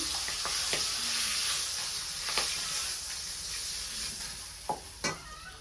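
Chopped onion frying in a pan, a steady close sizzle and hiss with occasional sharp scrapes and clicks of stirring.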